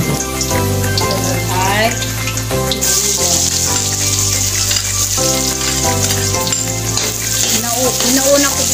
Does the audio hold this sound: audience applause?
no